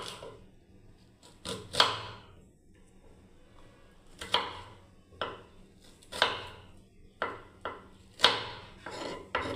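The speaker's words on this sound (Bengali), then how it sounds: "পেঁয়াজটাকে কেটে নিচ্ছি আমি" Knife slicing through an onion on a cutting board, a series of crisp, close chopping strokes at irregular intervals over a low background hum, no voices.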